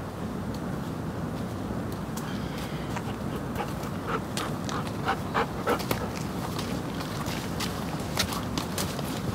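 A dog pants steadily nearby on a mountain trekking trail in Nepal, under a constant outdoor hiss, with faint footsteps and buzzing insects around it.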